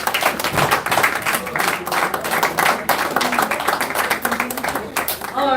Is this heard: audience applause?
yes